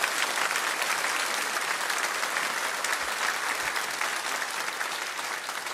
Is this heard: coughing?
no